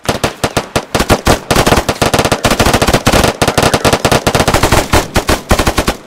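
Rapid bursts of loud, close automatic gunfire in the military shooter ArmA 3, sharp repeated shots in quick, uneven strings with almost no pause across the whole stretch.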